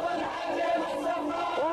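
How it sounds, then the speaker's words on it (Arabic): A dense crowd of protesters in Taiz, Yemen, chanting together on a revolution anniversary, a steady roar of many voices with a rising shout near the end. "تشعرك هذه الجماهير كأنك في 2011 وما تزال تهتف وتنادي بمحاسبة القتلة"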